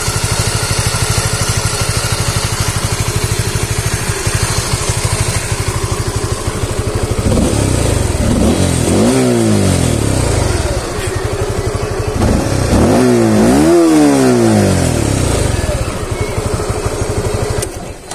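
A Honda Supra GTR 150 motorcycle engine, four years old, idles with a steady rapid putter, then is revved twice in sharp rising and falling bursts before settling back to idle, heard close up and alone.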